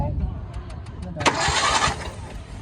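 A car's conventional engine is cranked by the starter motor during a compression test, a brief whirring churn rising up close after a short stretch of ticking, with voices around it.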